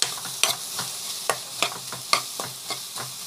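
Spices sauté in a hot pan under a spatula, with rhythmic scraping strokes about every half second over a continuous close sizzle.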